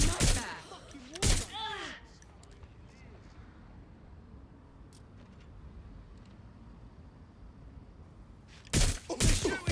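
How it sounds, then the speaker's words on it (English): Gunfire breaks out during a chaotic chase through London in the video game Watch Dogs Legion, with a few sharp, loud bursts at the start and again near the end, separated by a stretch of steady rumbling background noise. "They're shooting at us!"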